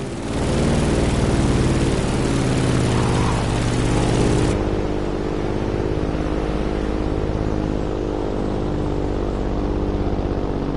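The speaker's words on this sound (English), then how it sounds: "In the cockpit of a stunning Grumman F-8F Bearcat, or simply the Bear." Grumman F8F Bearcat propeller fighter in the racing game The Crew Motorfest, a steady loud droning engine roar with rich low harmonics, continuous throughout, with the brighter wind hiss dropping away partway through.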